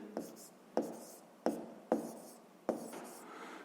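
Pen tapping and scratching on paper while numbers are written out for a sixth-grade maths exercise, five distinct close taps with faint scratching between, quiet and alone.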